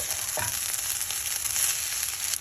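Cooked rice stirred with ghee in a hot pan, a steady close frying hiss with soft scraping movements and a brief rising squeak near the start.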